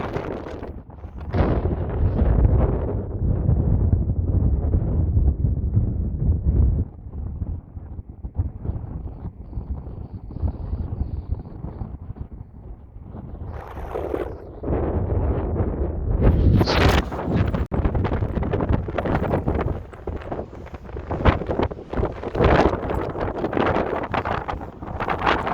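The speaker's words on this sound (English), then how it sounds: "this is how windy it is." Strong gusting wind at an Iowa truck stop along I-80 buffets the microphone with a loud, rumbling roar that rises and falls in waves, with no speech.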